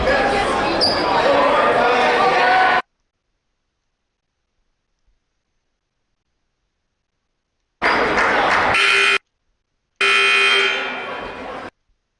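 A loud arena buzzer at a winter sports event, sounding in long sustained blasts with crowd noise, separated by stretches of silence.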